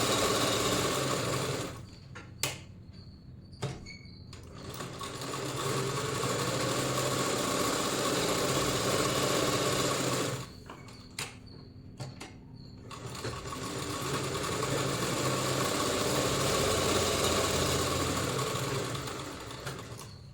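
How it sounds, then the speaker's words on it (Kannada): A treadle sewing machine runs steadily while stitching a single straight line, with a loud, even mechanical whir. It stops twice for short gaps filled with sharp clicks, then speeds back up, with no talking. "ಫಸ್ಟಿಗೆ ಖಾಲಿ ಮಿಷಿನನ್ನು ತುಳಿಬೇಕು."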